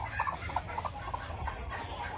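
A broody hen gives short, soft clucks in a loose, irregular rhythm, close by in hay, over a low steady background hum.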